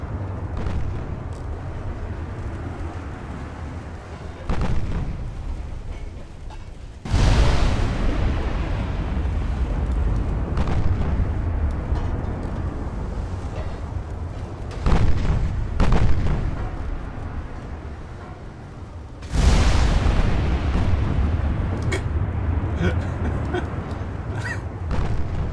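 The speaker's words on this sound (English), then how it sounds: "A full broadside going." Battleship firing full broadsides in Ultimate Admiral Dreadnoughts: heavy booming salvos erupt about every few seconds, with three especially loud volleys, each rolling into a long rumbling tail over continuous sea and engine noise.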